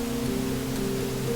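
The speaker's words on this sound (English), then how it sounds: "That's full spectrum pink noise." Full-spectrum pink noise generated in Unreal Engine 5.5 MetaSounds plays through both speakers as a steady, even hiss with no breaks, alone and unchanging throughout.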